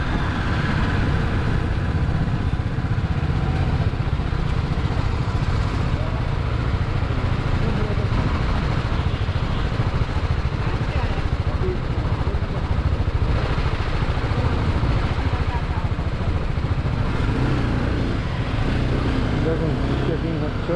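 Motorcycle engine running continuously while riding from Kolkata into Nepal at the border crossing, a loud steady low rumble close to the microphone, with wind noise and a voice speaking over it.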